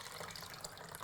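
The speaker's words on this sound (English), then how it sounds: "So I've just poured some water in the tank." Water rushes into a film developing tank in a steady, hissing pour that is brief and close, with no voices over it.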